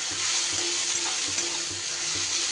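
Chopped green chillies fry with tomato in a pan for an okra dish, giving a steady close sizzle with soft rhythmic stirring scrapes underneath and no voices.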